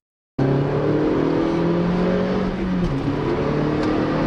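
A loud Audi A1 quattro rally car engine starts up and revs hard, rising and falling in pitch, close by and continuous.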